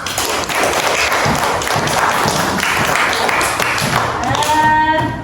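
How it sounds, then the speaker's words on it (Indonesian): A class of schoolchildren claps together, a dense, steady patter of many hands filling the room for about five seconds, fairly loud and close, with a few brighter tonal sounds rising near the end. "Alhamdulillah, tepuk tangan untuk kita semua."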